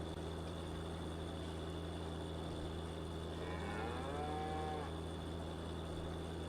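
A cow in the farming video game Farming Simulator 19 lets out a single drawn-out moo, heard midway over a constant low mechanical hum.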